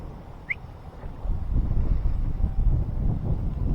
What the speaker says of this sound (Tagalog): Yung malakas ang hangin natin ngayon